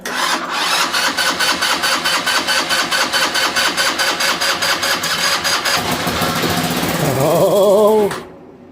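A GY6 scooter engine neglected for 15 years cranks in a fast, loud rhythmic chatter up close, then catches and runs, revving briefly before cutting off abruptly.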